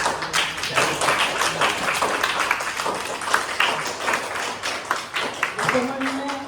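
Audience applause at an Engineers Day celebration at Engineers Club Dwarka: steady dense clapping from a crowd, loud and continuous throughout, with some voices mixed in.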